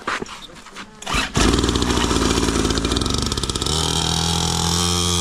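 A motorcycle self-started outdoors: the starter whirs briefly, then the engine catches and settles into a loud, close, steady idle with rhythmic clatter.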